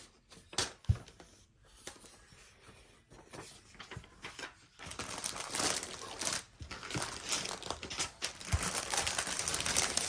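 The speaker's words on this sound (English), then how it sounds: "don't y'all just love the sound of paper wrinkling?" Decoupage paper being crumpled and wrinkled during a thrift store furniture makeover, a stretch of close, crackling rustles that grow denser and louder toward the end.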